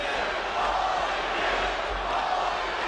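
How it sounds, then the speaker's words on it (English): A boxing crowd roars steadily, urging Evander Holyfield on during his rematch against Michael Moorer; a dense, distant wall of cheering arena noise with no clear breaks. "The crowd trying to urge Holyfield on."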